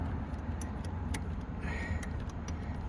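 A 7/16 wrench turning the battery terminal bolt on a 2009 Dodge Journey, small metallic ticks and clicks over a constant low rumble, with no voices.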